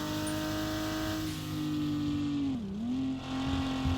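Engine of a Renault racing car in a video game, a turbo-reliant car that is starting to overheat, droning as one steady, loud note that dips briefly in pitch and then recovers, with no talking.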